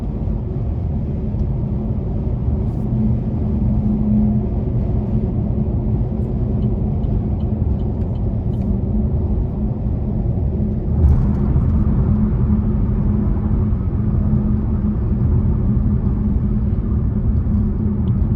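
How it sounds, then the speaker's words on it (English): Steady broadband cabin rumble and wind noise inside a 2020 Buick Encore GX with a 1.2-liter turbo engine cruising at 70 mph on the highway, continuous and even throughout with no talking. "They're cruising at 70 miles an hour. You still have that wind noise, but it's doable,"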